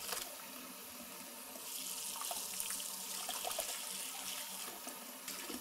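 Hot water runs and splashes into a basin for washing a crochet-inspired embroidery block, a steady close hiss of flowing water with light sloshing.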